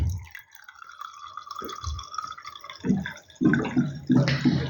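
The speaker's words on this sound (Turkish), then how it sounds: "Bir de suyumu da doldurayım da." Water is poured or filled into a coffee machine's reservoir indoors, with soft irregular drips and trickles near the mic, then louder sloshing bursts toward the end.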